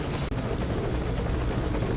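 A helicopter arriving in the video game Metal Gear Solid V, with a loud, continuous rotor chop filling the scene steadily and close by, no other sounds standing out.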